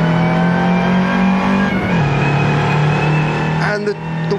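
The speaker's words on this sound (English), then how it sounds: "the sound when you do get up in the revs is, ooh, really nice" A 1960s Austin Mini Cooper S racing car in the Assetto Corsa sim racing game, its engine droning loudly and steadily at high revs, with a brief shift in pitch partway through, then a transmission whine.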